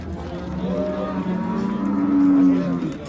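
Cows moo at the Oltiariq livestock market, one long, low, drawn-out call swelling slightly toward its end over a murmur of background market noise.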